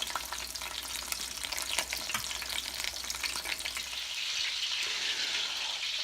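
Chicken cutlets fry in a pan with a close, crackling sizzle, busy with pops at first and settling into a smoother, hissier fry, with no voices.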